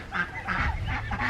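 Geese honk repeatedly in a rhythmic series of nasal calls, close and fairly loud, outdoors among ducklings, with no talk over them.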